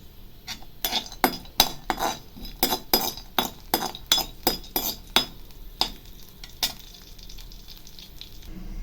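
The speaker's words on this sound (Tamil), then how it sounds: "முந்திரி பருப்பை நல்லா நம்ம ஃப்ரை பண்ணி எடுத்துடலாம்" Cashew nuts frying in a pan for date halwa, heard as a steady sizzle behind a run of sharp metallic clinks and stirring scrapes that tap out an irregular rhythm, close and clear, then taper into a softer hiss.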